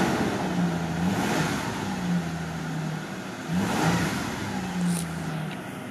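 A 1994 Isuzu Bighorn with a Lotus-tuned V6 and automatic 4WD idling smoothly, with a low steady engine tone that rises briefly a few times as it revs, recorded close by.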